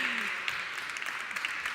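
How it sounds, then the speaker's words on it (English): Audience applause at a design awards ceremony for the best website winner, a steady dense wash of clapping from a crowd, moderately distant, with faint voices mixed in. "So a huge round of applause for"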